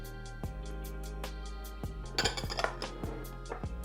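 Dry ingredients such as almond flour, coconut flour and xanthan gum are whisked in a bowl, producing light metallic clinks and taps of the whisk against the bowl in an irregular rhythm, close and moderately quiet.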